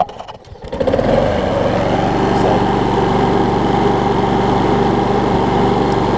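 A Toro Super Recycler lawn mower with a corroded carburetor starts with a brief pull and sputter, then settles into a loud, steady running drone that stays close and continuous.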